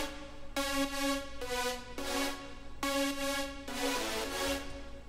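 A future bass supersaw chord stacked with a low synth layer plays punchy, buzzy sustained chords that change every second or so with brief gaps between them, full and bright, with no voice over them.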